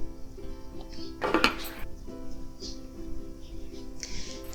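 A metal lid set onto a pan of cooking sarson ka saag, a single close clink and clatter of metal on metal, followed by faint kitchen clatter.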